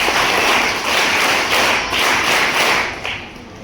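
An audience of schoolchildren and guests applauds a schoolgirl at a Subhash Chandra Bose Jayanti celebration in a Bengali primary school in Gondia. The dense, loud clapping swells in waves and thins toward the end, with no voices.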